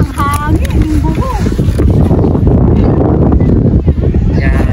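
Wind buffets the microphone outdoors on a sunny walk at a rural tourist spot in Baras, Rizal, a loud steady rumble with people talking over it.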